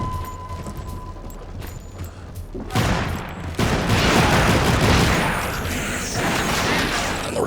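Bursts of heavy gunfire with recoil in the shooter game Darkwatch: a quieter stretch of scattered shots, then dense, loud sustained volleys crashing together.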